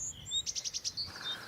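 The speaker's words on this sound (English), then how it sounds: "Blue tits, great tits." Blue tits and great tits sing in woodland, a quick run of repeated high chirps with other thin calls around it, moderately near over a soft background hush.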